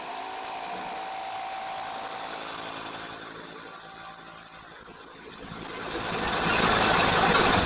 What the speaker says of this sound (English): Drill the first one, and we'll see how it goes.